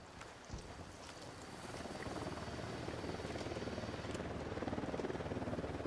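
A helicopter in Ghost Recon Wildlands makes a steady, droning rotor-and-engine roar that slowly builds in loudness, with a faint rhythmic chop growing more pronounced toward the end.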